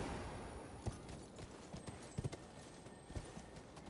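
Horse hooves clip-clopping in the video game Elden Ring, a few scattered, faint thuds at irregular intervals over a steady background hiss.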